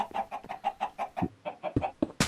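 Chickens in the video game Minecraft cluck in a rapid, evenly spaced series of short, clear calls, ending with a sharp louder burst.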